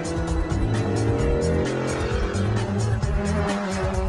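A Lola racing car, the one raced at Indianapolis in 1966, drives at the Goodwood Festival of Speed in 2008. Its engine roars loud and steady with a rough, pulsing exhaust note throughout.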